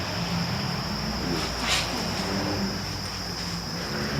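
White bell crickets kept on a Thai cricket farm chirp in a steady, high, shimmering trill that runs without a break, with faint low voices underneath.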